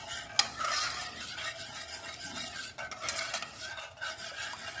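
Tomato paste and garlic sizzle softly in a pan while a utensil stirs and scrapes, with a sharp clink near the start and a few brief scraping bursts over a quiet, continuous fry.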